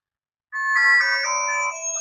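A mobile phone ringtone starts abruptly and plays a bright, sustained electronic melody, loud and close, in a home comedy sketch as someone places a call.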